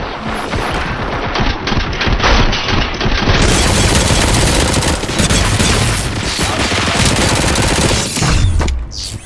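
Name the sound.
gunfire in the video game RoboCop: Rogue City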